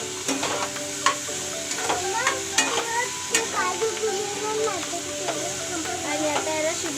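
Garlic cooking with cashews in a pan, giving a steady close sizzle broken by frequent scraping stirs and clinks of a spatula against the metal.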